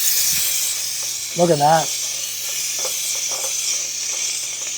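A handheld steam cleaner on its dry setting hisses steadily at full output, a broad airy spray running throughout with a brief spoken remark in the middle.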